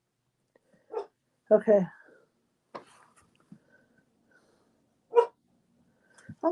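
A dog barks in a few short, separate bursts while people build a Christmas Vacation cookie house, with a brief spoken word and some breathing between the barks.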